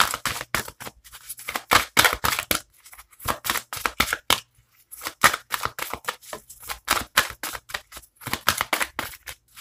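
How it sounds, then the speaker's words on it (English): Oracle cards with words taped onto them are shuffled up close in quick, papery riffling bursts. Several rhythmic runs are separated by brief pauses, with no talking over them. "These don't usually shuffle very well because I have words taped on them."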